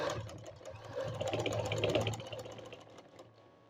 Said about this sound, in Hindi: और यहाँ तक सिलाई लगा लें।